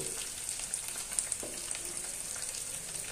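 Chopped banana flower fries in a pan with ground coriander, a soft steady sizzle with light stirring taps and a brief scrape, fairly quiet and with no voices.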